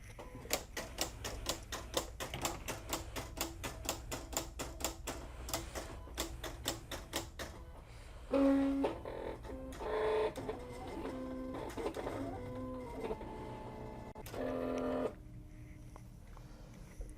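A Silhouette CAMEO cutting machine cutting Siser Brick vinyl, starting with a rapid run of sharp rhythmic ticks, then shifting to whirring motor movements and short tonal whines from the carriage.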